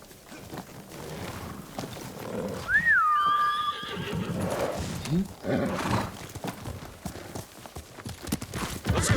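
A horse in Ghost of Tsushima gives a clear, loud rising whinny partway through, with hoofbeats and game ambience around it and a voice speaking faintly underneath.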